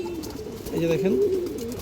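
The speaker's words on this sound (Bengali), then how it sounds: "একটা সিঙ্গেল নর কবুতর আছে।" A single male pigeon coos close by, one short warbling call, with someone speaking briefly over it.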